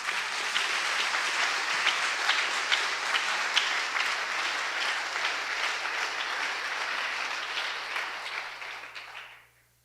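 A church congregation applauds in a long, even burst of many clapping hands that holds steady and then fades out at the end.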